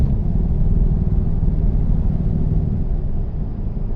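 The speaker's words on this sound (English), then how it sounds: "when I pull the lever here, that will activate the engine brake" A truck's engine brake in Euro Truck Simulator 2 rumbles low and steady, a dense, continuous drone that holds at even loudness from start to finish with no talking over it.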